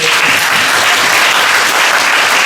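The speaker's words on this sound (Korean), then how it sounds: "앞서 발표해주신 세 분께 큰 박수 부탁드리겠습니다." A seated audience at an indoor policy forum claps loudly and steadily for three presenters, a dense continuous wash of applause that holds at full volume throughout the short stretch.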